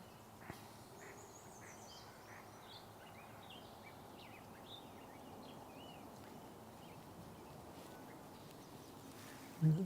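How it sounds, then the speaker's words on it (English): Swainson's thrush singing at a marsh in the early morning: faint, distant rising whistled phrases recur over a steady low wash of background noise, with a few other birds calling softly. "the Swainson's thrush we're hearing."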